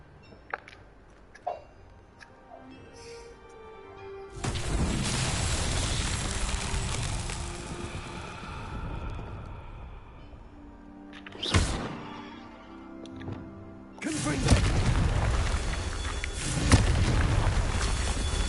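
A Confringo blasting spell goes off in Hogwarts Legacy with a sudden heavy roar that lingers for several seconds. A brief crack follows, then a second long, loud blast, with faint ticking in the quiet gaps between.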